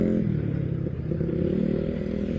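Motorcycle engine revving steadily and loud on a badly damaged road, a continuous low throaty drone with rattling clatter over it, no pauses.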